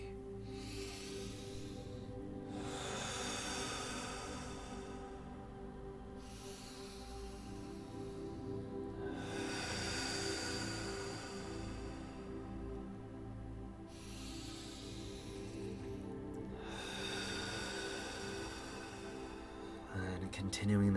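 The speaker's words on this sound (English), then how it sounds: "breathing in through the nose and exhaling out of the mouth" Slow rounds of deep breathing during a guided relaxation, with soft nasal inhales and longer, audible mouth exhales like blowing out a candle, repeating four times in an even rhythm beneath a calm voice that keeps talking throughout.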